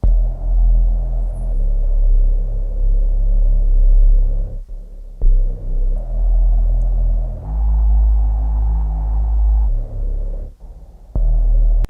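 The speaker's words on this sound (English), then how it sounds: "the next layer is the sub bass, which I use this Mini V by Arturia" Deep sub bass from an Arturia Mini V software synth using the Foundations Crumble preset, a loud sustained low rumbling drone that shifts between long held notes with brief gaps, heard alone.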